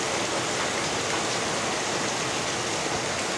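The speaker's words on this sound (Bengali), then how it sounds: "মুষলধারে বৃষ্টি হচ্ছে" A heavy monsoon downpour pours down as a dense, unbroken roar of rain. It stays loud and steady throughout, with no voices.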